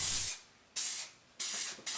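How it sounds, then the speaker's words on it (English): 3M 77 spray adhesive misted onto paper pieces for wood intarsia, three or four short hissing bursts separated by brief pauses, close and fairly quiet. "I was using the 3M77 spray glue to glue the paper pieces to the wood"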